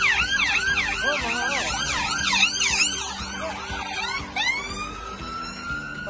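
Police siren wailing in a UK street as the car passes, the rising and falling tone sweeping loud and near, then shifting pitch and fading into steady road traffic.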